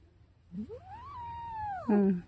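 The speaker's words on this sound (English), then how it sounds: "I'm gonna have to figure out a way to keep the cat out." A cat in a garden gives a single long, drawn-out yowl that rises, holds steady, then ends in a louder, rougher burst, close and clear with no talking.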